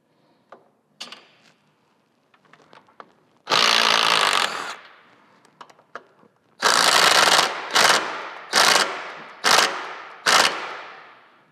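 A power tool rattles T45 bolts loose on an El Diablo Low Rider ST bike, sounding in one long loud burst followed by four shorter hammering bursts, with small clicks and handling taps between.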